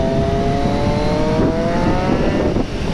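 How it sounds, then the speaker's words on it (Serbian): A 2020 Triumph Street Triple RS 765 three-cylinder motorcycle engine with an SC Project exhaust, loud and close, holding a whistling, rising whine over a rough exhaust roar; no talking. "poznato zviždanje trocilindričnog Triumfovog motora"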